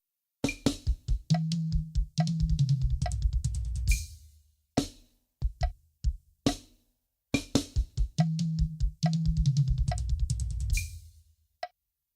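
A drum fill is played on a snare and drums in a fast burst of strokes, with cymbal hits and pauses between phrases. The pattern is played twice, loud and close, with no talk.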